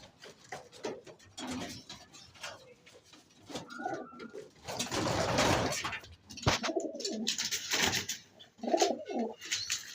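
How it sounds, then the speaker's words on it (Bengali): Wild pigeon chicks coo softly up close in irregular bursts, mixed with rustling and shuffling movement around a nest basket. "বোনা কবুতরের বাচ্চা দুটো উঠেছে আমার"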